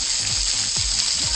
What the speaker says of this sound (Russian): И вот такой водопад